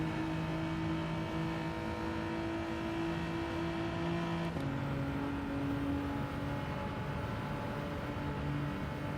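Race cars in Gran Turismo 7, a Suzuki Swift pressing a Subaru WRX uphill at speed, give a steady high-pitched engine drone with a sudden gear-shift drop midway, continuous and unbroken with no voices.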